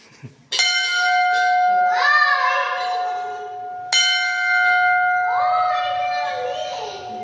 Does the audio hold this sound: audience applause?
no